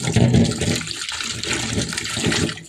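Running water pours steadily over pieces of fish being rinsed for a Kottayam-style fish curry, a continuous close splashing wash with no talking.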